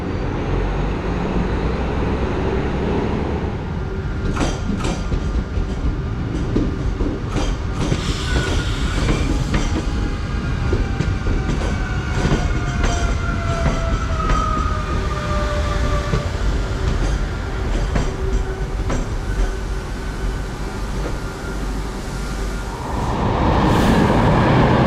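A Class 2240 electric multiple unit train runs loud and steady throughout, with continuous rail rumble, clattering wheel noise and rising and falling whining tones, then a brief surge in noise near the end.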